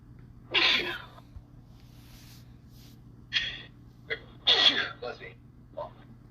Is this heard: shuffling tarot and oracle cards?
no